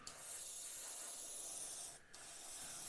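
A steady airbrush hiss sprays paint continuously onto the fuselage of a 1/35 scale Spitfire Mk Vb model, briefly cutting out for a moment before resuming; soft, close, and with no voices.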